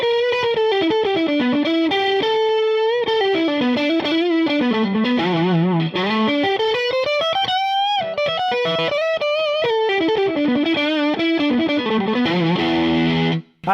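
A Fender Player Plus Nashville Telecaster on its middle Strat pickup position plays a continuous melodic electric guitar line through effects, with bends and slides, loud and close, no talk.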